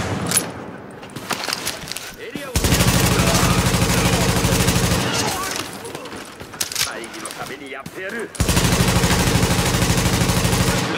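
Gunfire in Tom Clancy's The Division, with scattered single shots leading into long sustained automatic bursts that are loud and continuous, then a lull of clattering sounds before another heavy burst, while someone talks in French.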